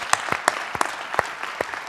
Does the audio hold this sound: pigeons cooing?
no